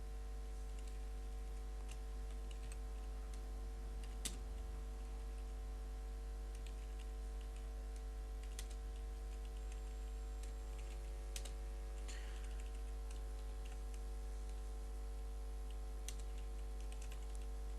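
Steady keyboard typing on a computer while an address is entered in a petition document, soft continuous clicks with a few louder taps over a constant low electrical hum, no talking.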